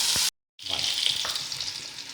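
Onions sizzle and fry in a pan while being stirred, cooking toward a dark brown; a steady close hiss follows a brief cut to silence, with light scraping and no talk.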